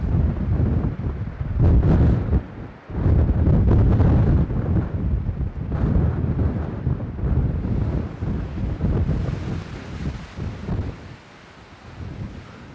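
Strong gusts buffet the microphone in heavy, roaring waves, with rushing water noise beneath, at Puerto Williams near Cape Horn; the wind eases slightly toward the end.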